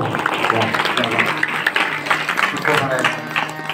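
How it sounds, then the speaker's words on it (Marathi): Applause for the performers at a Marathi kirtan, a broad, steady wash of many hands clapping throughout, loud and close, with voices mixed in. "एकदा सगळ्या कलाकारांच्यासाठी टाळ्या वाजवून जातो."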